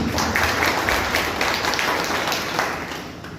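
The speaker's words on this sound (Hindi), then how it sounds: "मैं चाहूँगा जोरदार तालियां जितेंद्र कुमार सर के" Audience applause for Jitendra Kumar at an AWPL business meeting, steady dense clapping filling the room, fairly loud and continuous before easing slightly at the end.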